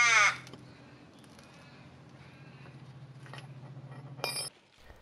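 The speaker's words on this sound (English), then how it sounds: "the birds are on my side, as each time I've reached a milestone, they're squawking at me as well." A crow caws sharply once at the start, close and loud, then fades into a faint outdoor background with a low hum and a brief metallic clink near the end.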